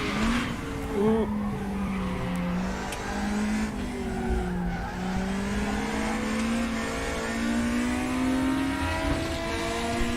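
A race car slides sideways in RaceRoom Racing Experience during ranked online racing behind a BMW, with loud continuous tire squeal and a varying engine drone through the skid.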